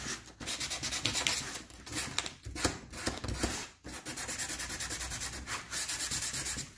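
Sandpaper rubbing quickly along the edges of a rattan Easter craft to distress it, in close, rapid back-and-forth strokes with a few brief pauses.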